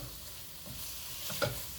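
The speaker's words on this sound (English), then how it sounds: "browning, caramelizing the pieces of tuna here" Pieces of ahi tuna brown and caramelize in a pan with garlic, giving a soft, steady sizzle with light stirring scrapes and a brief louder clatter near the end.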